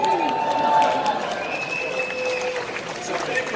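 Convention audience applauding, a dense steady wash of clapping from a crowd that holds at an even level throughout, with a voice faintly audible over it.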